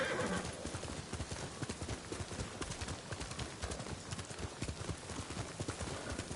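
Hooves of a horse in the video game Ghost of Tsushima, a rapid, steady clip-clop of galloping or cantering strides close by, with a brief whinny near the start and no talk over it.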